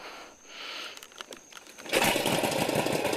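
A 1948 Indian Chief motorcycle engine catches on a kick-start, bursting into a loud, steady idle after a couple of seconds of quieter fiddling and clicks.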